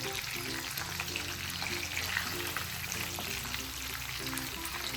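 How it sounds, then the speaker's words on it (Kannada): Rava-coated mackerel fillets, fried on both sides in a little oil, sizzle steadily in a pan in a village-style kitchen. The crackle is dense and continuous, with a faint low hum underneath and no voices. "ನೋಡಿ, ಎರಡೂ ಕಡೆ ಚೆನ್ನಾಗಿ ಫ್ರೈ ಮಾಡ್ಕೊಂಡಿದ್ದಾಯಿತು."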